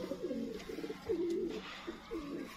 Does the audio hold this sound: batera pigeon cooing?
yes